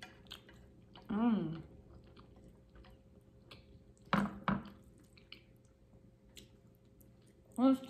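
Carbo fire noodles being eaten up close, with soft wet chewing and slurping between brief bursts of a person talking, quiet overall with a few sharper mouth sounds.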